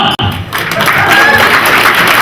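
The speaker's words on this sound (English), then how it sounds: "I want a round of applause." A crowd bursts into loud, sustained applause and cheering after a brief silence, the clapping dense and close.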